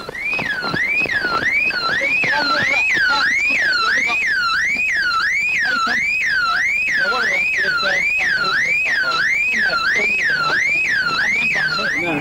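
Car alarm blaring beside a police vehicle during an arrest, a loud repeating siren cycling through rising and falling wails about twice a second, steady for the whole stretch, with faint voices underneath.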